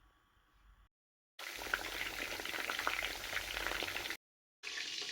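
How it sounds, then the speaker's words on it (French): Fish fries in hot oil for Senegalese thieboudienne, giving a steady, dense sizzle with crackling pops. The sizzle breaks off briefly twice and then resumes at the same level. "Donc moi, je vais frire mon poisson."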